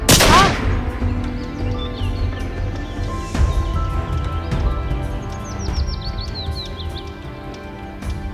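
Revolver gunshots in a Hindi suspense film scene: a sharp, loud blast opens, followed by a few fainter reports and echoing crack amid a steady background bed, with bird-like chirps trailing late.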